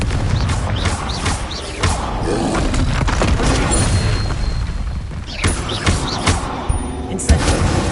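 Confringo spell explosions in the Hogwarts Legacy video game: a dense run of loud, booming blasts and heavy thuds, layered with crackling impacts and rumbling debris, continuing steadily without a break.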